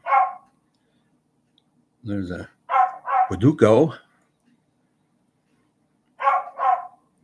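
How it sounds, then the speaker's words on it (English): A dog barks outside on a sunny South Jersey afternoon, a few separate sharp barks in short clusters with quiet gaps between them, fairly close and clear. "Tough dog, you're stuck out there."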